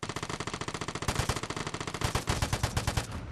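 Rapid automatic gunfire in a video game, sounding in quick repeated bursts that grow louder and denser toward the end, with no talking.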